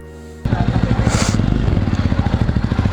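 Jawa 42 motorcycle with a 300cc parallel-twin engine starting and then idling steadily nearby, a loud, even low-pitched putter with a rhythmic pulse throughout, following a brief quieter start.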